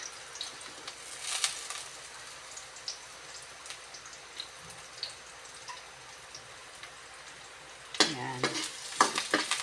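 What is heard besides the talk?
garlic and onion frying and being stirred in a pan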